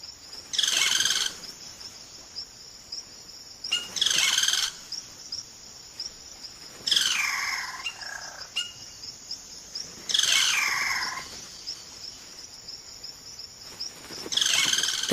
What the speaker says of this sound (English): The cacique males now go about the important business of attracting a partner by puffing up their plumage and showing off their remarkable vocal range.